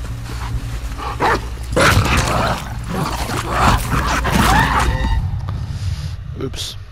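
Dog in The Last of Us Part II barking and snarling in several sharp bursts amid game action, loud and close, with a person talking over part of it.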